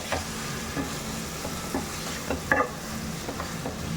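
Grated raw mango being mixed into mango pulihora (tamarind-free rice dish), with soft repeated stirring and scraping strokes close by over a steady low background hum, a few sharper clinks standing out.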